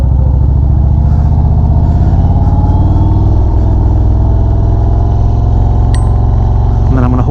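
A 2025 Indian Springfield Dark Horse motorcycle ridden in Tour mode on small city side roads, with a loud, steady low engine rumble close to the rider and wind buffeting throughout.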